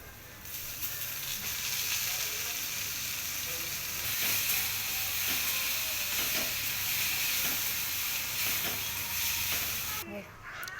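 Soaked kurdai sizzling and frying in a pan with eggplant slices, a loud, steady hiss of hot oil with faint stirring scrapes throughout.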